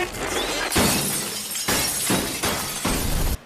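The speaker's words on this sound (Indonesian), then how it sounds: "Seluruh lampu neon di ruangan pecah tanpa sebab." Fluorescent lamps shatter across a room in several loud, crashing bursts of breaking glass, one after another, each with a noisy tail, then an abrupt cutoff.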